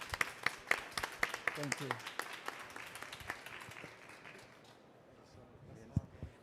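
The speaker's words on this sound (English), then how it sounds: "I'd like to ask for a round of applause to our very distinguished guests" A small audience at a COP26 Nature+Zone session gives a round of applause for distinguished guests, with scattered individual claps that thin out and stop, followed by a short spoken line.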